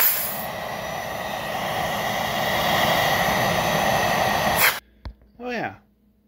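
A Simplicity Wonder vacuum cleaner runs with a loud, steady roaring whoosh during an airflow test, then shuts off abruptly, and someone speaks briefly afterward.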